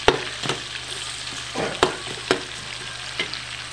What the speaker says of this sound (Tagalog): nalagay na po natin yung ating sibuyas at bawang. Isigit na lang po natin.